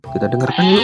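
A goat bleats close and loud with a wavering, pulsing cry, running straight on from a brief spoken line.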